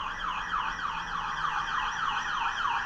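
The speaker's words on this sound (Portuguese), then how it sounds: "Vai passar agora uma viatura." A police car siren wails in a steady, repeating rise and fall at moderate distance as it passes, with no voices.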